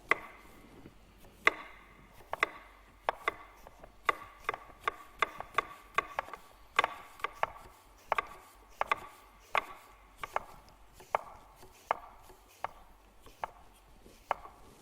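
A knife slices an apple thinly on a cutting board, making crisp, regular chopping knocks that repeat at a steady pace, close and distinct, with no talking.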